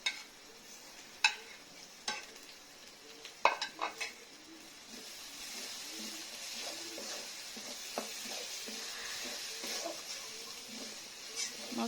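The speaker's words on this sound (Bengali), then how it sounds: "দিয়ে মশলাগুলো ভালোভাবে নাড়াচাড়া করে নিচ্ছি এবং বাটা মশলাগুলোও দিয়ে দিলাম" Ground spices with coriander powder fry in a pan for a pigeon meat curry. A spoon stirs and taps against the pan over a soft steady sizzle, close up and fairly quiet, with a few sharper clinks near the start.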